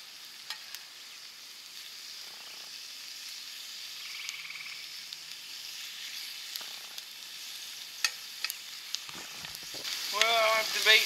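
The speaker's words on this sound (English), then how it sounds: "bacon sounds good" Soft, steady sizzling of bacon frying in a cast iron skillet crackles quietly throughout, with occasional small pops and a faint scrape near the end.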